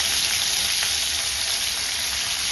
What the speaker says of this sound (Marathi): हिरव्या मिरच्या थोड्या हाताने तळून टाकल्या सुद्धा मी इथे हाताने तळून टाकत आहे